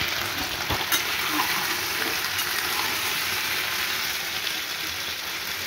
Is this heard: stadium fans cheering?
no